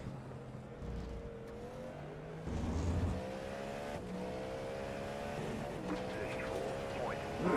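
Race car engines in the iRacing sim during a Le Mans six-hour endurance race drone and whine through gear changes, several cars heard at moderate level with a shift in intensity partway through.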